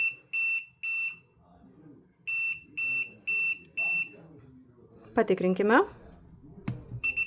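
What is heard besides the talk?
receiver relay beeping after remote signal test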